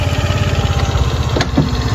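A Honda Activa scooter engine runs close by with a steady low idling putter, loud and continuous, with a brief higher knock partway through.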